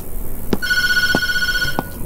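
A telephone rings in the horror video game Tattletail, a steady electronic trill sounding continuously with a few soft thumps under it and no talking.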